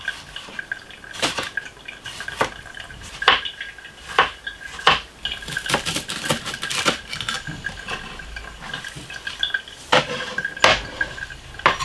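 A knife cuts cucumbers into rings about half a centimetre thick, giving sharp, irregular taps on a cutting board with small kitchen clatter between strokes.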